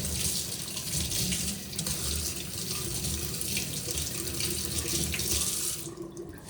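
Tap water runs steadily into a sink as fresh mint leaves are washed, a constant close splashing rush that cuts off near the end.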